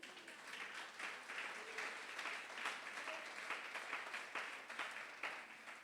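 A church congregation applauds with steady, fairly soft clapping that carries on throughout, heard from some distance.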